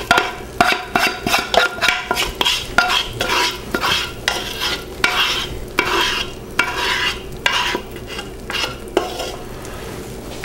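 Hot peanut brittle being scraped out of a pan, with repeated scraping and clanking strokes of a utensil against metal, close and fairly loud, with no voices.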